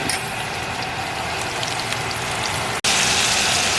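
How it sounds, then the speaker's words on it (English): Pork chops sear in a hot pan with a dense, steady sizzle and crackle, close and loud throughout, no voices, briefly cut off near the end before resuming. "Chops are in the pan. Getting a good sear."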